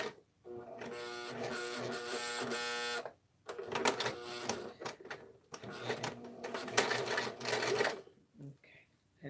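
A sewing machine stitches through thick fabric: a fast, even mechanical hum runs for a few seconds, stops briefly, then returns as a longer series of stuttering, uneven bursts before falling quiet.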